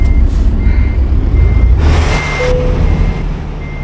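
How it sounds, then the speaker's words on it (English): Steady reversing beeps from a simulated semi-truck backing up a trailer in American Truck Simulator, repeating evenly over a low engine rumble, loud and close with no talking. "So just back the trailer on up."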